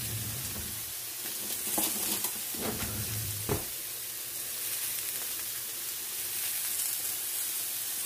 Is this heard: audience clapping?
no